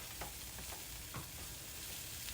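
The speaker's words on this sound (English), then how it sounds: "And then stir it all together." Cauliflower and salmon are stirred together in a frying pan over a steady low sizzle, with several soft scraping strokes of the utensil against the pan. No one speaks.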